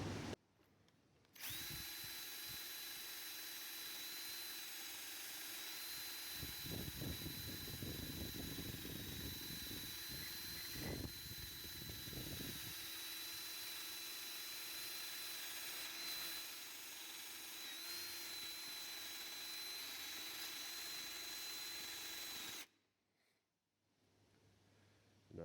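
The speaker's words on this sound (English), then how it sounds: "a battery drill with a wire brush attachment, and just go over all the hard to come off parts" Cordless battery drill spinning a wire brush to scour carbon off a BMW Mini Cooper D inlet manifold, a steady loud whine running continuously with heavier scrubbing bursts in the middle, then stopping.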